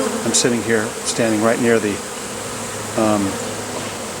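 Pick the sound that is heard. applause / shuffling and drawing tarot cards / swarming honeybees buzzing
swarming honeybees buzzing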